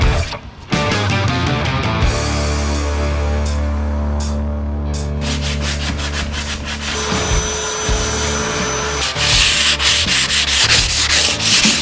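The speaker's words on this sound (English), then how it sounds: "sand it up and get this thing as smooth as we possibly can" Sander grinding paint off the surface of a mini bike, a loud continuous rough rasping drone with a steady motor hum that grows harsher and brighter toward the end.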